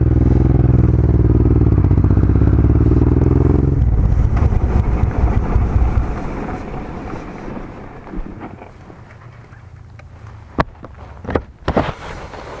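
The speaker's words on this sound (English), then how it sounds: "the old bike's idling a bit slow" A carburetted motorcycle idles slowly and unevenly at altitude in the Blue Mountains of New South Wales. Its low, throbbing idle is close and loud at first, then gives way to wind noise and a few clattering knocks.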